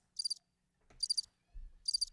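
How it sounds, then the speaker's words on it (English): Crickets chirp in three short, evenly spaced bursts of rapid high trills, with soft low thumps between them and no talking. "There are the crickets."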